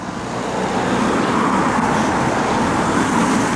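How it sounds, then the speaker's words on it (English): Steady road traffic on Garden Wood Road, a residential street in East Grinstead, forms a continuous close rumble and hiss of passing cars and heavier vehicles that swells in the first half second and then holds loud without a break, with no talking. "But yeah, there's a lot more traffic."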